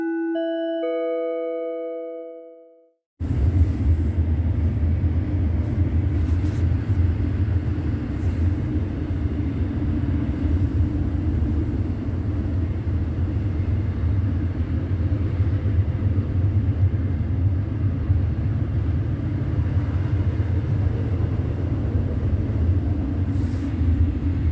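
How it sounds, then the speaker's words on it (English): Heavy, loud train rumble near a museum at night, a deep continuous roar that starts abruptly after a brief musical tone and holds steady for over twenty seconds. "the state filling the grounds of the museum with the super amplified sound of a train"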